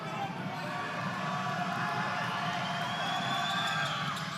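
A basketball crowd at a district boys' high school game makes a steady, roaring din of cheers and shouts that holds constant throughout, with no single voice standing out.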